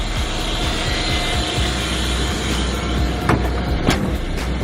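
A Ford F250 tow rig's engine running on blocks, a steady close rumble with a dense broadband hum and a couple of brief higher clicks near the end, no talk.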